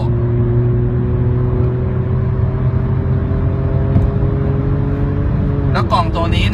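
An automatic Fiesta on 17-inch wheels accelerates hard in second gear. Its engine holds a loud, steady, rising drone inside the cabin, then shifts near the end.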